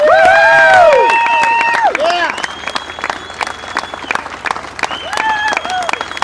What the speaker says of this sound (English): Give them some round of applause. Give them some hooting and hollering.